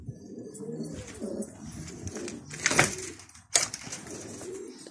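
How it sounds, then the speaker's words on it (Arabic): Pigeons coo softly at close range in a loft of young birds, with rustling and a couple of sharp bursts of wing or body movement among them. "هاي حمامي طبعا يا اخوان"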